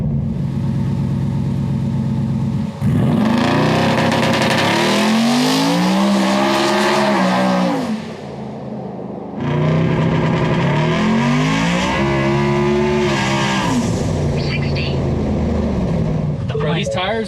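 Big-horsepower 2024 Ford F150 4WD truck spinning its tires at full power, a loud engine roar rising and falling in two long surging bursts with squealing rubber, voices talking over it.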